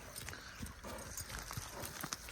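A good riding horse being shown to a buyer walks uphill, its hooves clip-clopping in a steady, fairly close rhythm over low outdoor background noise.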